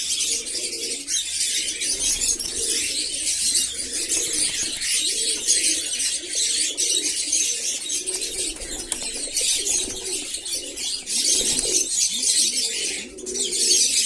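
Pigeons coo steadily in low, rolling murmurs while being fed in the morning, several birds together, with a constant hiss of background noise and occasional faint flutters.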